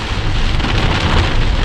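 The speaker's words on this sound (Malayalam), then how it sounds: "നല്ല ശക്തിയായ മഴ, അതുപോലെ തന്നെ നന്നായി കോടയും." Heavy rain pours down steadily on a misty mountain ghat road, a loud dense hiss with no gaps and no voices.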